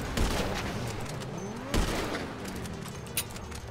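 Gunfire in GTA 5 Online: a volley of shots with sharp cracks near the start and middle, then scattered smaller shots over a noisy background.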